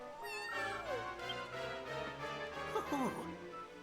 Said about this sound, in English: especially with the cat still meowing.